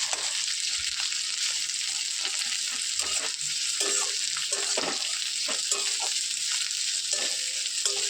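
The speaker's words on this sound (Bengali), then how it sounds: "তো পেঁয়াজটাকে আমি দিয়ে দিলাম।" Chopped onion and green chili frying in oil in a pan, with a loud, continuous close-up sizzle and occasional stirring scrapes throughout.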